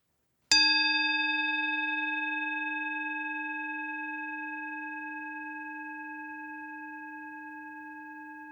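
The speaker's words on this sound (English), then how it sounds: "And then a little bell." A single small bell struck once, ringing out with a clear, pure tone that slowly fades over several seconds in otherwise silent surroundings.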